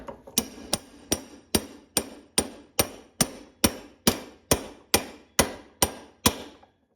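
Thirteen sharp, evenly spaced hammer blows drive a shaft bearing into place in a Getrag 260 gearbox, each strike ringing briefly in a steady, close rhythm with no talking.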